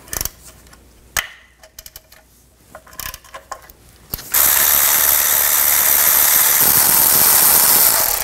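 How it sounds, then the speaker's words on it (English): A hand ratchet with a 15 mm socket loosens engine mount bolts on a 2009-2017 Chevy Traverse, giving a few scattered clicks and knocks before a long, steady, loud ratcheting buzz takes over. "Use a 15 millimeter socket to take these out."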